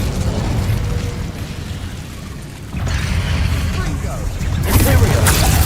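Fire bursts from the Incendio spell in Hogwarts Legacy, rushing whooshes and crackling flame roars swelling over a busy game soundscape, loud and dense, rising again toward the end.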